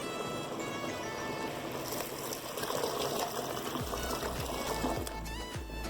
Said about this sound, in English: So this is where I'll add more water.